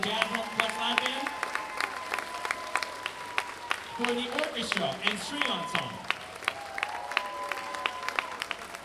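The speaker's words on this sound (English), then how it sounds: "Can we have one more round of applause, please, for Royal Blues and the Jazz Flex Lab Band?" A concert audience applauds the school bands and orchestra at a spring instrumental concert, clapping running steadily beneath a man announcing over a microphone.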